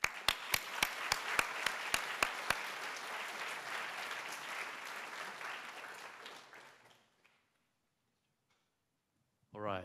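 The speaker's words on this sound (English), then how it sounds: "let's welcome our newest members once more with a round of applause." Audience at a university welcome ceremony gives a round of applause for new members: a few sharp individual claps, then steady, moderately loud clapping that fades out into silence before a voice begins.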